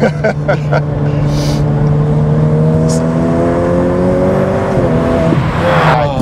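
A Ferrari F8 Tributo drives hard on a drift course, its engine roaring loud and close as it climbs steadily in pitch, then drops sharply on a gear change before pulling up again.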